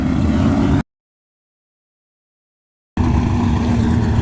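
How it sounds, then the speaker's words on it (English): Loud rumbling drag racing car engine at a drag strip, close range, cut off by a couple of seconds of total silence before the heavy roar returns. "I hear a bracket racer"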